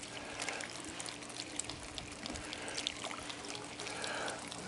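Rainwater poured onto plants in an elevated container garden, a soft continuous trickle and splash of water on soil and leaves, faint and steady with small irregular splashes.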